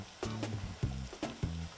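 Steady sizzling of carrots and onions frying in a pan, with a few short scraping stirs breaking through the constant crackle.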